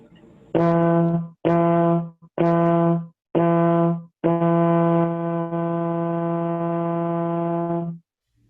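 A trombone plays four short, evenly spaced notes tongued on the same low concert F, then holds one long sustained tone before stopping.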